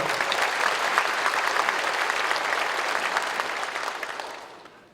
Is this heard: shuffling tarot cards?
no